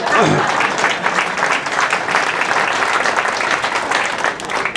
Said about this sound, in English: Now, yeah, let's clap.